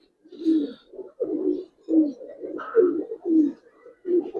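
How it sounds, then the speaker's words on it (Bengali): An old-breed Giribaz female pigeon coos in low, throaty rolling phrases, repeated steadily and close by, with no voices over it. "মাদিটা সম্পূর্ণ একটা পুরান জাতের কবুতর"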